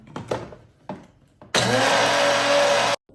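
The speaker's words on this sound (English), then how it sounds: "So we're going to first blend these and then we'll add gradually." A blender whirs loudly and steadily for about a second and a half, blending ingredients for a no-bake blueberry cheesecake, preceded by a few short clunks and bumps.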